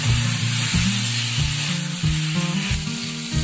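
Fried boiled potatoes drop into a pan of sizzling chicken curry, a strong frying hiss with repeated stirring scrapes and knocks of a spoon against the pan, close and loud.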